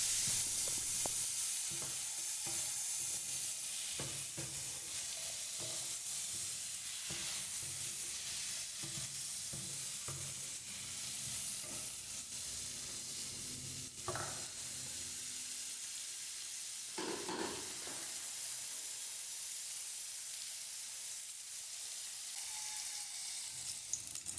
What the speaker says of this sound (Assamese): ধুনীয়াকৈ পটল আলুগুটি দি পেলাই কাটি পেলাই ভাজি লৈছোঁ